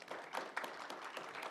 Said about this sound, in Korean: 우리 송인규 교수님께 박수 한번 보내주시기 바랍니다